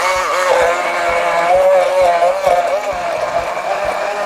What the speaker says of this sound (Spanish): Una batidora de mano.